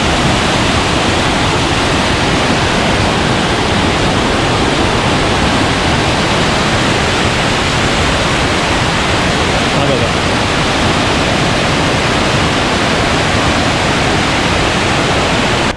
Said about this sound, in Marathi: इथे सुद्धा तुम्हाला पाण्याचा आवाज येतो इकडे